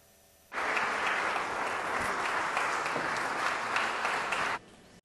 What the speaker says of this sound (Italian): I fedeli che frequentano la chiesa di San Pietro e dello Spirito Santo a Fisciano applaudono